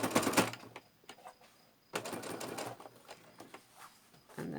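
Sewing machine stitching down an inside pocket of a bag, with back stitching: two close bursts of rapid mechanical clatter, the second longer, fairly loud and with no talk.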